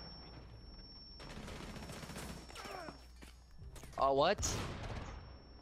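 Gunfire in the video game Rainbow Six Siege, a short burst of shots through a wall followed by a louder closer volley, under excited player talk.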